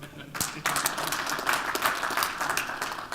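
An audience at a breakfast seminar claps in a moderate burst of applause that continues for several seconds, fairly near and dense.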